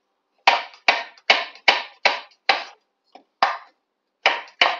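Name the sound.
thinly slicing mushrooms with a knife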